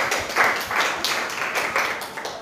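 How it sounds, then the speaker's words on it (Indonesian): Classroom applause after a student presentation in a physics teaching session, a small group clapping unevenly in bursts, close and moderately loud. "tepuk tangan untuk kita semua ya"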